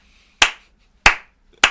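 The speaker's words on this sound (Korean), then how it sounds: "박수 한번 주세요." Three separate hand claps ring out loud and close, evenly spaced about half a second apart, each a sharp crack with a quick fade into silence.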